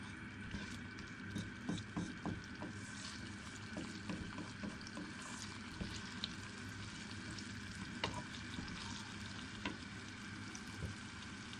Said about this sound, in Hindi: भूनेंगे आलू।